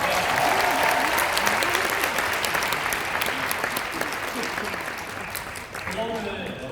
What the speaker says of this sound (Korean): 여러분들 스스로에게 한번 박수 한번 주시겠어요?